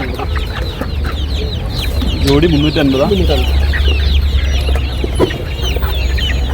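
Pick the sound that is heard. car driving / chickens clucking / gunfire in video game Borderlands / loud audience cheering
chickens clucking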